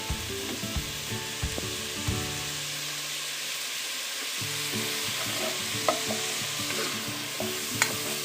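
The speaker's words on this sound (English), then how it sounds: "Mix that around, let it fry for a little bit." Stew ingredients seasoned with cayenne pepper stirred and frying in a pot: a steady sizzle with repeated scraping and stirring knocks, which pause briefly before the stirring resumes.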